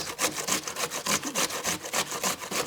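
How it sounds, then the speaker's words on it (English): An onion is rubbed back and forth across a hand grater in quick, even strokes, about a dozen rasping scrapes in a steady rhythm, close and clear with no talking. "Next, we are going to use our onion to grind."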